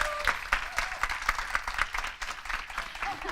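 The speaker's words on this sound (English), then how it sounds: "Let's give her another round of applause" An audience at a holiday success panel presentation breaks into rhythmic applause, a steady run of claps at moderate distance with faint crowd murmur underneath.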